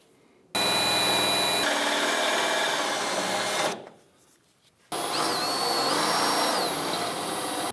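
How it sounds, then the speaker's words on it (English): A power drill bores out rivet heads on a 1993-1997 Ford Ranger rear shock mount bracket, whining loudly in two sustained runs separated by a short pause, with the pitch rising slightly as the bit bites into metal. "Now that we have the head of the rivets drilled out"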